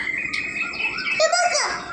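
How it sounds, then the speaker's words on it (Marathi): Assorted birds chirp and whistle in overlapping high, tonal calls, fairly close and continuous for a couple of seconds. "मस्त वेगळे पक्ष्यांचा आवाज यायला लागलेला आहे"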